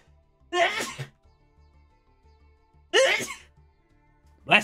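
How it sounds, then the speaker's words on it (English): A person sneezes twice in a quiet room, two sharp, loud bursts a couple of seconds apart, with the start of a third at the end. "I'm going to sneeze again, I'm telling you."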